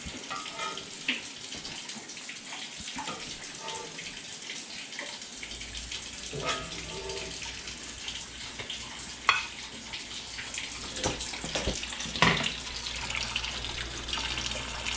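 A kitchen tap runs steadily into the sink during washing up while French toast is cooked, a continuous close splashing hiss with occasional clatters and knocks of dishes, and no talk.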